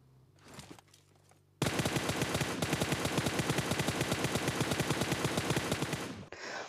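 Sustained automatic gunfire in the battle-royale video game PUBG, a loud continuous rapid burst lasting several seconds after a brief quieter lead-in of softer game sounds.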